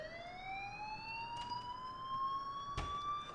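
A fire alarm in a video game sounds as a single rising electronic wail, steady and moderately loud, with a soft thump partway through and no talking.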